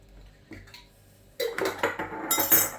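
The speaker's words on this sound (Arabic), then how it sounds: "هفتح الحبهان كده بالسكينه" A knife clicks and taps against cardamom pods in a home kitchen, a few sparse light knocks followed by a denser burst of clinking and scraping near the end, close and alone.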